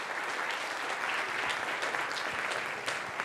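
An audience applauds at the close of a talk on the Russian Revolution, a steady, dense round of clapping that holds throughout and stays fairly quiet in level.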